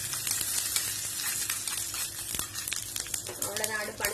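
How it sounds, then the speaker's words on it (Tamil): White sesame seeds and curry leaves crackling and sizzling in hot oil, a dense close spatter of sharp pops over a continuous fry. "எள்ளு வெடிக்குது."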